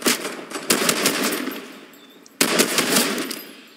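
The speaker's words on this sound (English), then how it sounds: "who's shooting at us?" Video game gunfire during a round of play: bursts of shots in two loud clusters with a brief gap between, close and harsh, with no talking over it.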